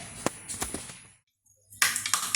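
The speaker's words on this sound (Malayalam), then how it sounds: "കടുക് പൊട്ടി തുടങ്ങി." Mustard seeds crackle and pop in hot coconut oil for an Onam-special ulli puli: a run of sharp close pops and hiss, a short silence, then a louder burst of spluttering.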